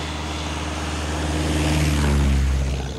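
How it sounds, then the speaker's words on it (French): A crop-dusting airplane sprays chemicals over a plantation, its steady propeller drone swelling slightly as it passes at moderate distance, with no voices. "les techniques de pulvérisation des produits chimiques. Au sol, mais aussi par avion"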